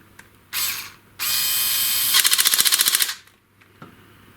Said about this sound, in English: Although this is an impact gun, it's an impact screwdriver